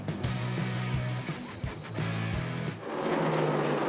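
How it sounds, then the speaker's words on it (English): NASCAR stock cars race at New Hampshire Motor Speedway, a loud continuous engine roar with repeated passes swelling and fading as cars sweep by, sustained throughout. "some pretty intense racing on the track in the Sylvania 300 at New Hampshire"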